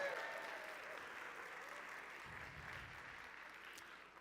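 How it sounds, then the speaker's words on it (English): Faint, distant applause from an audience after a musical performance at a pitch event, a soft continuous patter fading slightly, with a low murmur partway through. "One more round of applause."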